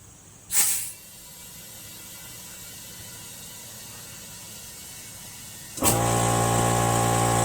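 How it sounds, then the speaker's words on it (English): Compressed air hisses from an air compressor nozzle into a slow-leaking lawn tractor tire on a John Deere Sabre: one short, loud burst, a quieter pause, then a sustained steady blast close by. "Now I'm just going to blow some air in here."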